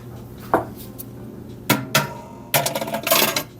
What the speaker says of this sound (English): And then I'm gonna hammer it.